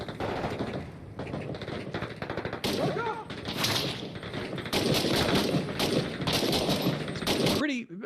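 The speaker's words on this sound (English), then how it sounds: "Pin enemies in place with suppressive fire while you flank." Sustained automatic gunfire in a war video game set in the Second Battle of Fallujah, loud and dense, with overlapping bursts and a voice speaking underneath, ending in a sharp sweeping effect.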